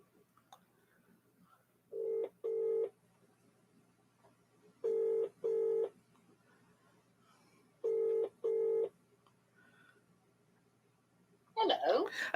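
Phone call ringback tone: three pairs of evenly spaced double rings at steady intervals, clear against near silence, followed by a voice at the end.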